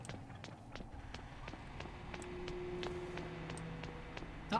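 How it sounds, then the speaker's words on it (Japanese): Footsteps from the horror video game Horrorfield, a steady run of soft, evenly spaced thuds at moderate distance over ambient game hum and a sustained tone. "あ、足音が聞こえますね。"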